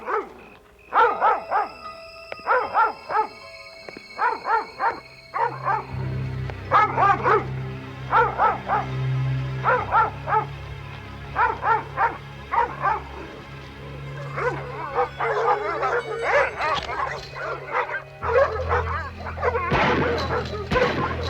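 Several dogs in a kennel barking repeatedly in loud, irregular bursts, mixed with whimpers and yips, continuing throughout with some rumbling background noise.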